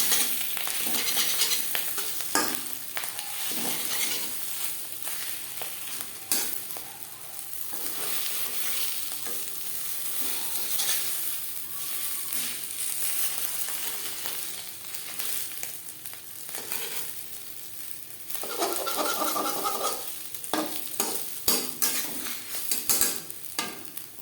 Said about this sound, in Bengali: যেভাবে আমরা মাছ বা ডিম ভাজা করি সেইভাবে ভেজে নেব এভাবে একটু খুন্তির সাহায্যে টুকরো করে দেবো